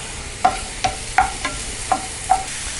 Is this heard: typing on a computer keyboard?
no